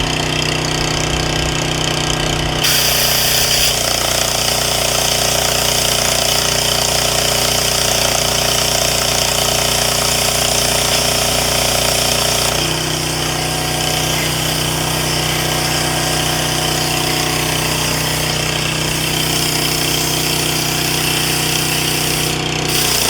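A generator welder labors under load while powering a plasma cutter outdoors, its engine roaring loud and continuous throughout, with a harsh buzzing hum that shifts slightly in pitch partway through.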